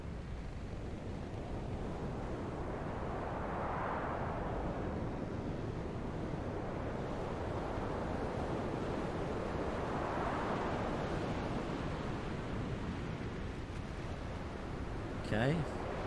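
Steady wind and rolling sea surge around a ship in the video game The Pale Beyond, a broad continuous roar that swells gently twice, with a brief clink near the end.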